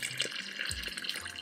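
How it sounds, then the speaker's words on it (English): Boiling water pours steadily into a portable mini washing machine, a continuous splashing rush that is close and moderately loud, with no talking. "And that's 2 more liters of boiling water."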